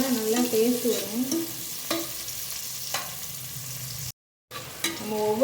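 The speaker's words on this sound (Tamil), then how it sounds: "பாருங்கள், வெங்காயம் நல்லா பொன்னிறமாக வதங்கிடுச்சு." Finely sliced onions sauté in a pan for mutton biryani, with a soft frying hiss and repeated scraping stirs, plus a brief dropout near the end.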